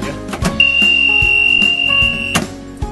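An AED cabinet door alarm in a hotel at Liberty Mountain Resort lets out a steady, high-pitched electronic buzz for about two seconds. It rings loud and close over a few soft knocks and clicks, with no talk.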